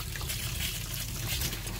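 Hot water runs from a tap in a self-built VW Crafter campervan, a steady close trickle and splash into a sink with no pauses.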